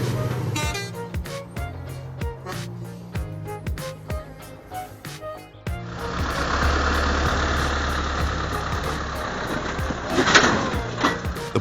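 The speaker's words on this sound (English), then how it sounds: "Engines roared again" A tractor and a truck stuck in mud run their engines, first a throbbing idle, then a rough, loud roar as both rev hard and strain together.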